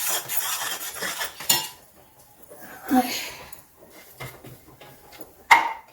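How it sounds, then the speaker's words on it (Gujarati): A spoon stirs water in a metal pot on the stove while prasad is cooked, giving scattered clinks and scrapes with quiet gaps between them. "હું હલાવીશ મસ્ત હલાવી દઈશ"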